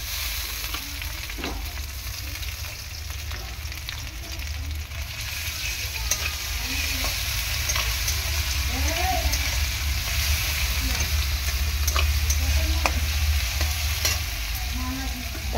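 Ginger garlic paste fries in hot oil with a strong, continuous sizzle and crackle, stirred now and then, steady and close throughout.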